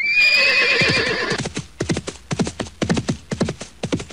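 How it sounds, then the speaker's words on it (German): A horse whinnies loudly at the start, a long descending neigh, then clip-clop hoof beats follow in a steady rhythm, close and clear with no talk. "ein Pferdchen, ganz genau"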